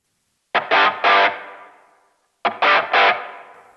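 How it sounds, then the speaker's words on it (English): Two bursts of a processed guitar signal on a Line 6 Helix, each a few quick strikes followed by a long reverb tail, with the reverb band-limited by an EQ for a thin radio or telephone effect. "So you can hear that the reverb is also without the low and the high frequencies"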